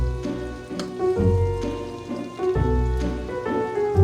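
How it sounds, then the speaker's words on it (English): A steak fries in very hot butter in a pan inside a barracks room, giving a loud, close, continuous sizzle and crackle that swells and dips in waves, with no talking. "This butter is probably really freaking hot right now, so I presume it's cooking it, maybe?"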